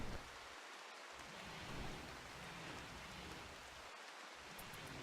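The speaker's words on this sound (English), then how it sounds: "Oh, it's raining." Steady rain falling in a RimWorld colony, a dense, even hiss of rainfall with a faint low rumble of distant thunder running through it.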